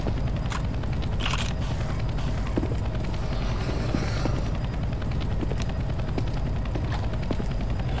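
Helicopter in the video game CSGO Zombie Escape, a loud continuous rotor chop with rapid rhythmic thumping, joined by scattered sharp bangs and game effects.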